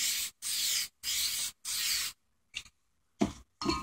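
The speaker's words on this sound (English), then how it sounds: "I'm going to spray a little bit of blue here" Four long hissing bursts from a spray can in a regular rhythm, then a pause and a few shorter, scattered sprays and rustles.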